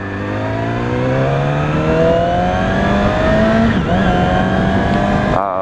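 A 2016 Yamaha R6 motorcycle engine on a test ride, loud and close, climbing steadily in pitch as it revs through the gears, with a brief dip partway and a sharp shift near the end.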